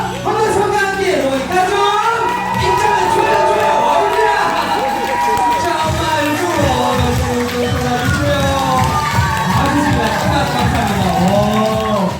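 Guests at a Korean first-birthday party clap and cheer as the family is welcomed in, with lively crowd noise and music under an MC's amplified voice throughout.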